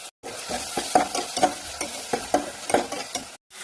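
Onion, garlic, shallots and green chilies fry in hot oil, a steady close sizzle broken by repeated clattering stirs of a spoon against the pan, with a brief silence at each end.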